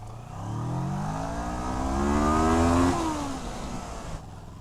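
A motorcycle engine revs up and then downshifts two gears, pitch rising and falling in steps, fairly close with a steady roar.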